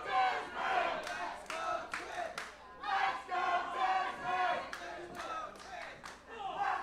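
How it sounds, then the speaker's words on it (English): A divided crowd at a Monster Factory wrestling event cheers and chants in rolling, competing waves, loud and sustained, with rhythmic surges as rival sections shout for their wrestlers. "the crowd certainly sounding divided"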